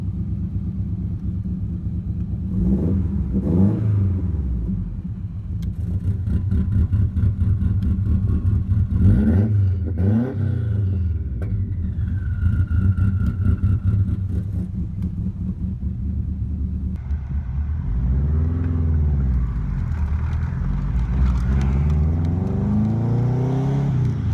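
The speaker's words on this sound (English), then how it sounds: "So I added in an exhaust cutout." A car engine with an open exhaust cutout revs repeatedly, loud throaty rises and falls over a constant deep idle rumble, heard close and alone without talk.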